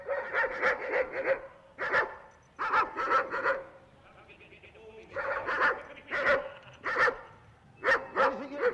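An Alsatian guard dog at a garage barks in rapid clusters of deep, harsh woofs, close and loud, with brief pauses and a whining stretch between bursts.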